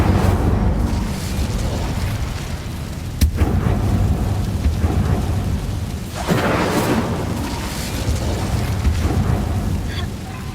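Incendio fire spell cast in Hogwarts Legacy, with a sharp crack followed by rumbling, booming bursts and crackling whooshes amid steady game ambience.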